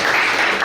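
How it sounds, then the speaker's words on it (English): A brief burst of dense audience clapping fills a hall at an Ayurveda Day 2023 event in Stockholm, loud and steady without any talking. "Applause to that."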